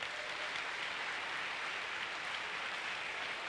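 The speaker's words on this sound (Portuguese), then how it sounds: "Aplauda esse Deus com alegria" A church congregation at a Methodist service claps in steady, dense applause, a loud unbroken wash of many hands that fills the whole moment.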